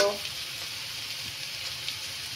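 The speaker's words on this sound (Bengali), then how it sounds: "এই যে আমি ডিম আর গাজরগুলো ভালো করে ভেজে নিয়েছি। এখন আমি এর মধ্যে কাজু বাদামটা দিয়ে দিব" Cashew nuts drop into a pan where eggs and carrots are already frying for a vegetable pulao, giving a soft, even sizzle with faint stirring and no voices.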